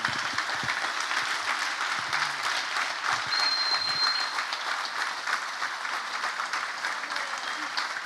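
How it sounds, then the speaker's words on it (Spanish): Sustained applause from an audience at a Spanish-language event honoring a team, a dense even wash of clapping lasting throughout, with a brief high tone and faint voices underneath. "les pido un aplauso tremendo para ellos"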